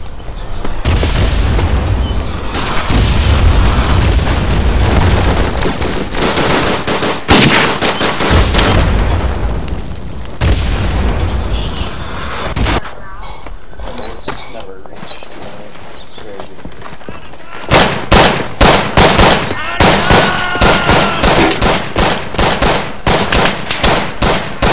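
MG08 machine gun bursts and explosions ring out on a Verdun video game battlefield, rapid rattling volleys and heavy booms at close range, mixed with voices talking.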